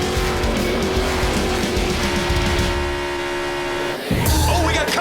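NASCAR stock cars racing three wide, a dense, loud engine roar with rising and falling whines as the pack passes, a brief dip, then a fresh surge of noise.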